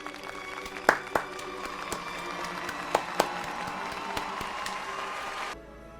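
Scattered clapping from a crowd with a few sharp claps and faint cheering, moderately distant, fading out near the end.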